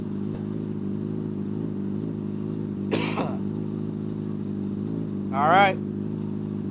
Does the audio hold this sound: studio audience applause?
no